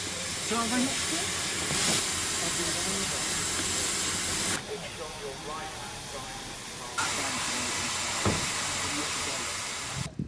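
Steady broadband hiss of a steam locomotive on the Severn Valley Railway at Kidderminster during a winter gala fills the scene, with background voices and rumble, and a couple of sharper bursts of venting steam.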